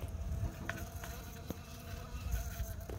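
Western honeybees buzzing close by, a steady droning hum with faint clicks and rustles, fairly quiet and heard on its own without talk.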